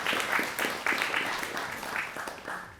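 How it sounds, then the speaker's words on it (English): Audience applause at a panel event on ethical neuroinnovation, a moderate patter of clapping hands sustained for a few seconds, with some voices mixed in. "round of applause"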